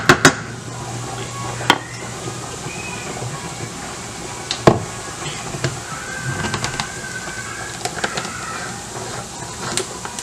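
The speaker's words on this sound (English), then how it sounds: "And then just give it one last stir." Mexican rice is stirred in a pot, and a spoon scrapes and knocks against the metal in sharp, irregular clinks over steady kitchen background noise, with talking in places.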